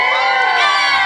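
A crowd cheering and shouting together, loud and bright with high excited voices and whoops blending into one continuous roar, close by and without any single clear speaker.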